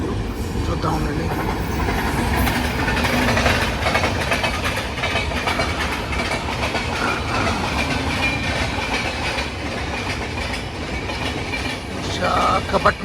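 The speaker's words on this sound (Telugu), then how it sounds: "విశాఖపట్నం లింగంపల్లి జన్మభూమి ఎక్స్ప్రెస్ గాయస్. జన్మభూమిని చూడండి గాయస్." The Visakhapatnam–Lingampalli Janmabhoomi Express rolls past near Krishna Barrage with a continuous loud rumble and rhythmic clickety-clack of wagons, steady throughout, heard from close by a crossing.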